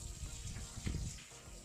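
Water runs steadily as a patio is washed outdoors, a soft continuous splashing hiss heard at a moderate distance, with no talking.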